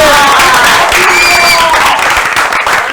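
An audience at a prize-giving show applauds a trophy winner, sustained loud clapping with cheering and whistles filling the room, close and continuous throughout.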